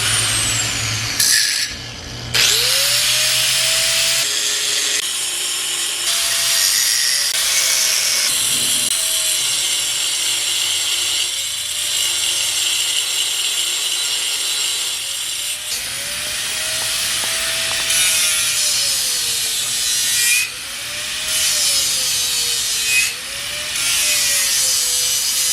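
A power tool cuts through steel axle tubes on a Colorado drag truck build, a sustained loud grinding whine with pitch wavering as the blade loads and eases, several short pauses and restarts throughout.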